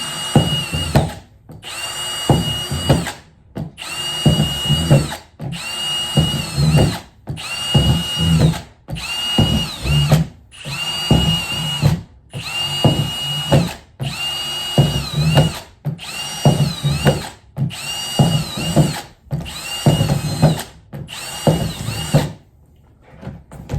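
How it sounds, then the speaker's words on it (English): A power drill whirs in about a dozen short bursts separated by brief pauses, each whine rising and falling as it bites through a worm composting bin. "just drill some holes"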